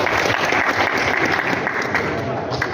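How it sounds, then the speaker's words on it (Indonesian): A crowd claps together at a gathering on preserving Minangkabau culture, a dense, steady burst of applause mixed with murmuring voices. "Tepuk tangan buat kita."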